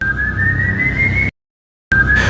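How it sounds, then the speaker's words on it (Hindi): A long, steady eerie whistle holds one high pitch in a horror cartoon story, loud and alone, breaking off into silence before resuming briefly. "अब वही सीटी रायन के कानों में गूंज रही थी।"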